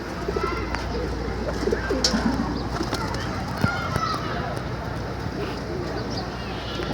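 Pigeons disturbed in the rain coo and flutter amid steady rainfall noise, with scattered soft calls and wing sounds and voices talking nearby.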